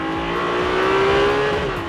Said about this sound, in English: with the acceleration and higher revs, the volume has to increase